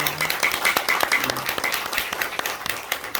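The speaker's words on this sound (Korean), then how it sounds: "우리 박수 한번 봅시다" Congregation clapping during a Sunday church service, a steady patter of many hands at moderate loudness with a few speech-like tones mixed in.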